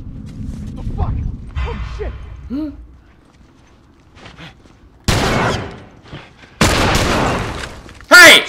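Gunfire in The Last of Us, loud bursts of rapid shots in two long stretches followed by a sharp final blast, after quieter game sounds and a voice.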